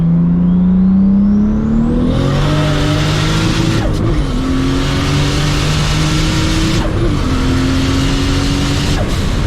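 A Toyota Supra MKIV pulls away with a rising engine note that shifts through gears, close and loud, with tires whirring and no talk over it.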